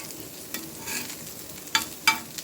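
Chicken pieces sizzle in a pan as they are stirred for chicken egg fried rice. Soft scraping runs under the sizzle, and two sharp metallic clinks of the utensil against the pan ring out near the end.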